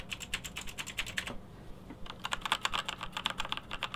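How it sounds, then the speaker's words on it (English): Non-clicky keys on a GAMDIAS keyboard being pressed in quick, steady bursts of soft, close typing with a brief pause midway. "the keys, as I'm pressing them, aren't like clicky-clicky, like razor click."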